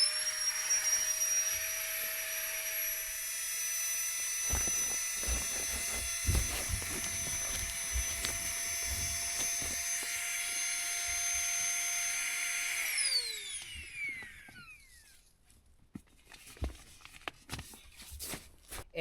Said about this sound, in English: the flex tail is able to fill this pad to capacity, and I don't have to use the foot pump on it